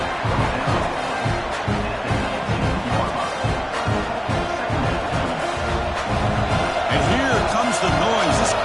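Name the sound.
stadium crowd cheering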